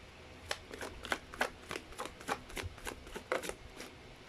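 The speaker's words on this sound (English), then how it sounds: "So let me shuffle again." Tarot cards are shuffled by hand in a quiet room, a series of soft riffling bursts at irregular intervals, close and faint, with no talking.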